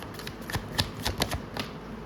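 Tarot cards being shuffled by hand, with a series of soft, close riffling and slapping bursts in an uneven rhythm and no talk.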